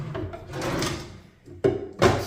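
Drawer on a rolling work cart with caster wheels, set up for an HO scale model railroad layout, sliding with a soft rumble and then two sharp knocks as it shuts, close and fairly loud.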